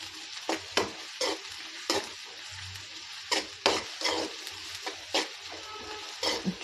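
Onion and green chilli fry in a pan as a soft crackling sizzle, broken at regular intervals by bursts of scraping as a spoon stirs, close up with no voices.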